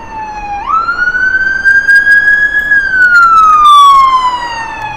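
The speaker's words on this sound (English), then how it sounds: "Is this another westbound emergency vehicle?" A paramedic SUV's emergency siren in downtown Toronto on an evening drive: a loud, close wailing tone that sweeps upward, holds steady, then slowly falls as the vehicle passes, over steady road noise.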